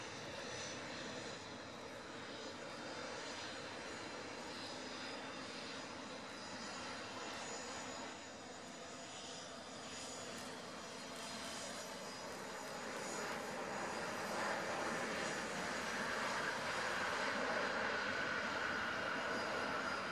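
A Turkish Airlines Airbus A330-200 roars with jet engines at Geneva airport, a steady loud drone that swells toward the end, with no talking.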